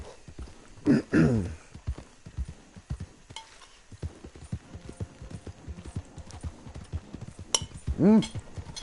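Horse hooves clip-clop steadily at a walking pace in the open-world western game Red Dead Redemption 2, with clinking gear and occasional voices layered over the hoofbeats.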